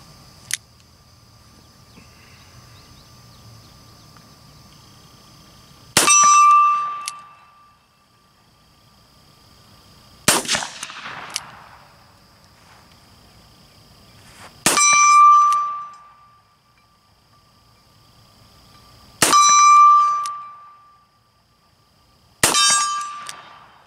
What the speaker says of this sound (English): We're going to take a few shots with it.